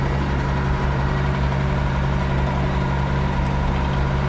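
A 1977 Ford 9700 tractor idles steadily at close range, its low diesel rumble and engine hum constant throughout with no voices.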